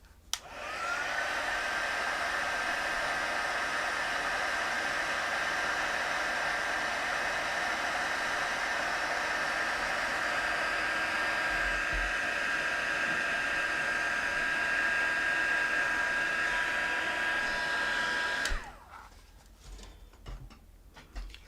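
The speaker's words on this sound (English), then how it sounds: "I'm gonna use the heat tool, so cover your ears" A crafting heat tool blows hot air in a loud, steady whooshing roar with a thin high whine, running continuously for about eighteen seconds before cutting off, leaving faint handling noises.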